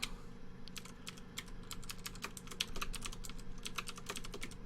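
Steady typing on a computer keyboard during a programming session, a continuous run of close, crisp key clicks at an uneven rhythm, moderately quiet with no voices.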